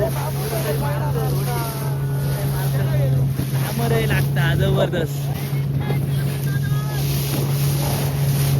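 A fishing boat's engine drones steadily out in the deep sea with wind buffeting the microphone, while people talk loudly over the running motor.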